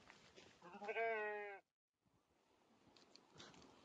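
A sheep bleats once, a wavering cry lasting about a second close by, followed by a quiet gap and soft outdoor rustling and faint movement from the flock.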